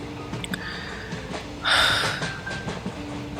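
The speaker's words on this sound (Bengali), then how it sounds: "মশাগ্রাম এসে পৌঁছল ট্রেন" A train pulling into a station, rendered as a sound effect: a low rolling rumble with a brief loud hissing burst of brakes midway, then a thin fading squeal.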